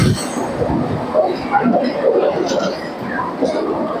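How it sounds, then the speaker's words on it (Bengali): A crowded Budge Budge local train pulls into the platform at Majerhat station, its wheels squealing and carriages rumbling loudly and close by over station bustle, with a voice talking over the noise. "তো বন্ধুরা আমাদের ট্রেন কিন্তু এখন ঢুকছে"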